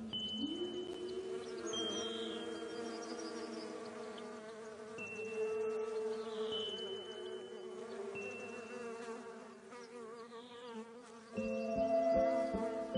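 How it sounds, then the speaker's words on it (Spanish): Bees buzz among spring flowers, a steady droning hum with a few louder passes close by and no voices. "Hay que agradecer especialmente a las abejas por la primavera."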